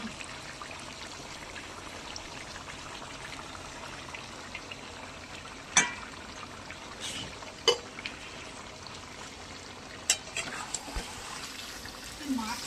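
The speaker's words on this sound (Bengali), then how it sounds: "এবার ভালো করে আধ ঘন্টা কষাবো।" Chicken stirred and fried down in a pan gives a steady, soft sizzling hiss, broken by a few sharp clicks and scrapes of the spatula against the metal.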